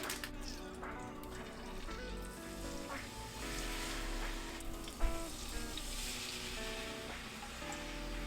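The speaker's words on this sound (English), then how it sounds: "And while this is pan frying" Salmon sizzles steadily in hot olive oil in a pan, a continuous crackle with a soft tonal hum in the background and one brief knock.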